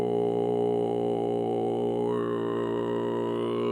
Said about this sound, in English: This technique basically involves still projecting your regular chest voice while incorporating fry.